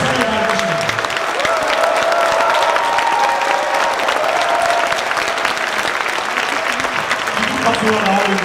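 Large audience at a political event applauding and cheering, a continuous dense roar of clapping throughout, with a voice speaking over it.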